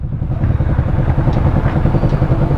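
Motorcycle engine idling close by with a loud, steady low rumble and faint mechanical clatter, with no voices.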